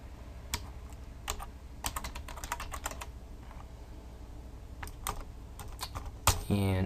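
Someone types on a computer keyboard while writing HTML code, producing quiet, irregular clusters of keystroke clicks separated by short pauses.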